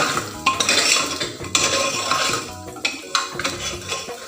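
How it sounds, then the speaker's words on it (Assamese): Basmati rice pulao stirred in a pot over low gas, with repeated metallic scrapes and clinks of a spoon against the pot in an uneven rhythm, close and fairly loud, no talk. "এতিয়া যিমান পাৰে সিমান লৰাই থাকিব।"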